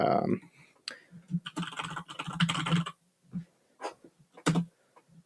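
A search being typed on a computer keyboard, with bursts of close, crisp key clicks separated by short pauses, alone without speech.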